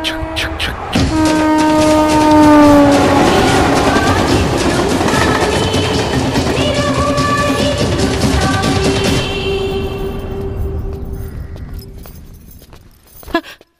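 A train runs loudly on rails in a Bhojpuri film scene, with a sounding horn early on, rhythmic clickety-clack and rumble that gradually fade into the distance, ending with a brief sharp noise.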